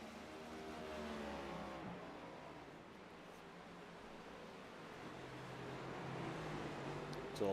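Race cars run on a track during a USORA race, engine drone rising and falling in pitch as they pass at a distance, steady and continuous with faint background noise.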